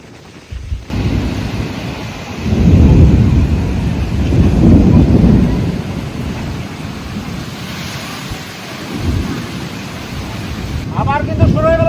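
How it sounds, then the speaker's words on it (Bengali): A Kalbaishakhi thunderstorm with heavy rain and strong wind: gusts roar and buffet the microphone in loud surges that rise and ebb over a constant wash, and a brief voice comes in near the end. "আবার কিন্তু শুরু হয়ে গেল বৃষ্টি, হ্যাঁ, ঝড় আর বৃষ্টি"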